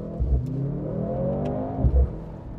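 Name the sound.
Mercedes C63 AMG engine accelerating on the road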